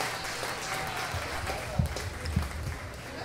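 Applause from a game-show audience in Ciudad Juárez for a contestant, a steady wash of clapping at moderate level with a few sharper hand claps and faint voices mixed in.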